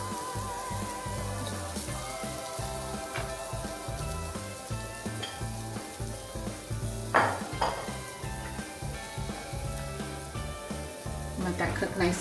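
A sweet potato pancake fries in butter and oil in a pan, a steady close sizzle with occasional scrapes and clinks of a utensil against the pan.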